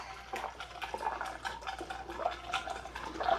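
ATF and acetone pour into a container in a steady, quick glugging stream with irregular splashes and gurgles, close up and fairly quiet.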